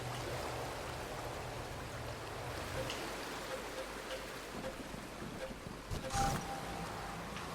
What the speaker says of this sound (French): je veux générer un passage pour que l'eau puisse s'écouler d'elle-même